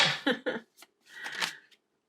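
Tarot cards shuffled by hand during a card reading, giving a few quick close riffling bursts followed by a longer soft flurry of card noise, with no talking.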